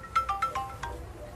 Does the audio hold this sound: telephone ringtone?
yes